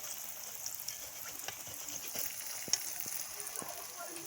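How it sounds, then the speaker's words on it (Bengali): Steady sizzle of pointed gourd slices frying in hot oil, with scattered small pops and crackles, fairly quiet and close, no voices. "দেখো এক পিট করে ভেজে উল্টে দিচ্ছি দেখো"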